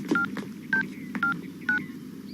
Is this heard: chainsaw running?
no